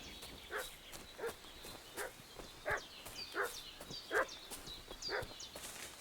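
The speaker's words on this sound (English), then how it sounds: "What's that dog making such a fuss about?" Dog barking in Kingdom Come Deliverance II, a series of about eight short, fairly evenly spaced barks at moderate distance over faint ambient background, with no speech.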